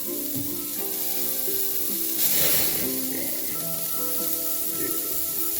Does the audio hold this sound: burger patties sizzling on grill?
yes